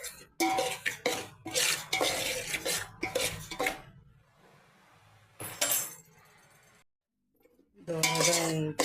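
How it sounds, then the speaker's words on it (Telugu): Semolina roasting in a pan for payasam, with clinking utensil scrapes and stirring against the pan in bursts, broken by quiet gaps; a voice speaks briefly near the end. "పాయసం చేస్తున్నాను ఈరోజు. రవ వేయించుకోవాలి."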